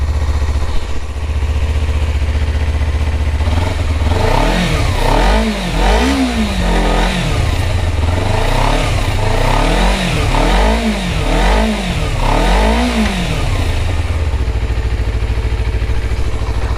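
Close, loud revving from a Honda CBR250RR on its standard exhaust, with the engine rising and falling in a run of repeated blips over a steady idle.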